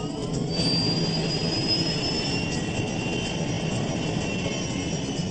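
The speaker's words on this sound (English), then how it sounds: "Today they're piloting a British-built BAE 146 commuter jet. With quiet turbofan engines" Steady, loud whine and roar of the turbofan engines on a British-built BAE 146 commuter jet, a constant drone with a high tonal whistle that slowly rises across the clip.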